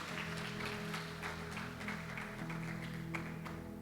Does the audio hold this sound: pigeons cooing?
no